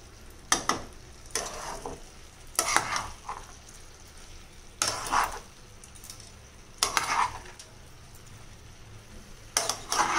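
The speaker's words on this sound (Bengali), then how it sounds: "এবারে ভালো করে মিশিয়ে দেবো চালগুলো" Rice being mixed in a kadai (wok) over a gas flame, with a spoon scraping in about five separate bursts over a low, steady sizzle.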